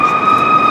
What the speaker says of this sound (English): Even the sirens.